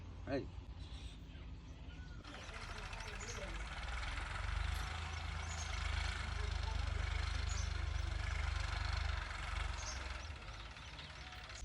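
A farm tractor, push-started by hand, settles into a steady low engine rumble that runs on under people talking nearby, with a field of castor plants being ploughed.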